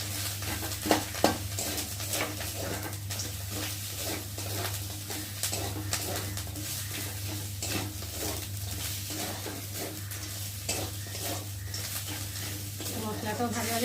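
Fish heads sizzle in a pan with spices while being stirred, making a steady frying crackle broken by frequent rhythmic scrapes and taps of the spatula, over a low constant hum.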